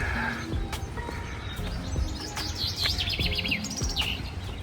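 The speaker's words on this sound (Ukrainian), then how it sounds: "Пташки співають." Small birds chirp and trill repeatedly in short bright phrases over a steady outdoor background, moderately close, with no talking.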